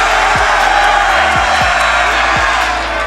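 Large esports arena crowd at a Rainbow Six grand final in Atlanta cheering and roaring, loud and sustained, with thumping music beats underneath.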